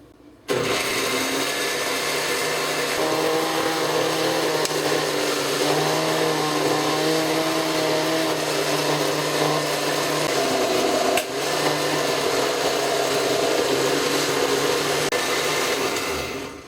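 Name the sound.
blender blending onions and cilantro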